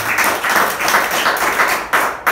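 A church congregation applauds during a Spanish-language worship service, a loud, continuous wash of many hands clapping in slightly pulsing waves throughout.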